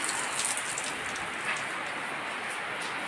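Heavy rain falls outside in a dense, steady roar of drops on surfaces, even and continuous throughout with no voices.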